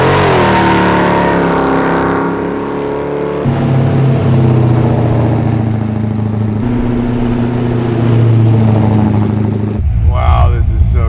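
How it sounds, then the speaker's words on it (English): A 1933 Plymouth hot rod pulls away, its loud engine droning and shifting pitch through gear changes with a sharp burst near the end, while someone talks excitedly over it. "here we go for a ride in my buddy TJ's sick, insane 33 Plymouth"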